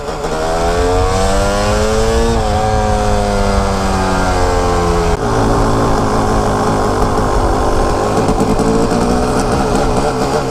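A Kawasaki KX250 two-stroke dirt bike engine revs and whines continuously, small and high-pitched, loud and close, pitch rising and falling as the throttle changes.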